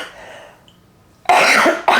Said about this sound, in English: so you may hear me cough.